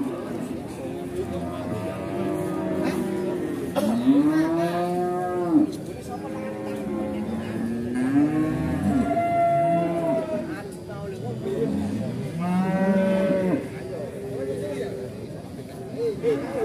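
Cattle, including Pegon cattle, moo repeatedly at the Pasar Wage livestock market in Pati, long bellowing calls overlapping one another amid a constant hubbub of voices and activity.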